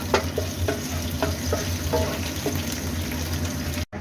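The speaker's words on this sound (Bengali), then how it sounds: "এখন গরম মশলাগুলোকে তেলে খানিকক্ষণ ভেজে নিতে হবে।" Three bay leaves, four cardamom pods and four cinnamon sticks fry in hot oil for biryani, giving a steady, moderate sizzle with a few sharp pops and crackles, alone with no talk and a brief drop near the end.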